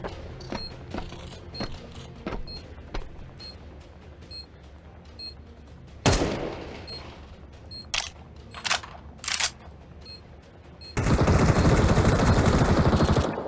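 AK rifle gunfire in a shooter video game: loud, sharp bursts of shots, one heavy blast, then a dense sustained stretch of noise near the end, with no voices.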